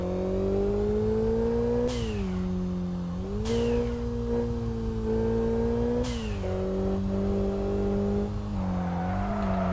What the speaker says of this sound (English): Looks like we're starting drifting early with the Evo.